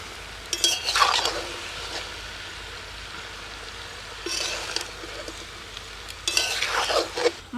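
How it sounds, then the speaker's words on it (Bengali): Poultry chicken feet and gizzards stirred with dried chilli paste, turmeric, cumin, coriander and meat masala in a pan, three bursts of scraping and clinking utensil strokes between quiet low sizzling, no speech. "ভালো করে নেড়ে চেড়ে নিলাম"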